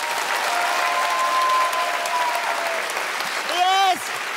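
A comedy festival audience in Liège applauds steadily for a few seconds, then a voice rises briefly over the fading clapping.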